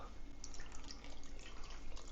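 Beef broth is poured into a pot for creamy Texas chili noodles, giving a soft continuous trickle and splash, quiet and steady over a couple of seconds.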